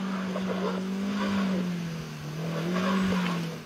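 A car engine revs hard and strains steadily as it tries to climb a steep slope, its loud drone wavering in pitch with no one speaking.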